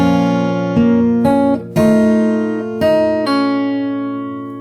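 A fingerstyle acoustic guitar plays the opening of a song, a steady run of about six picked notes and chords ringing out close and clear, with no voices.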